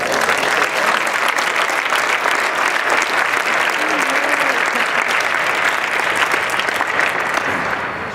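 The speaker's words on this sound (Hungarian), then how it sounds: "Nagy tapsot kérek!" Loud, dense applause fills a room at a Christmas party, sustained evenly for about eight seconds with a few voices faintly mixed in.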